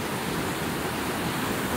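Steady, dense roar of a waterfall heard from right at its edge, a continuous broadband rush with no breaks or voices over its short span.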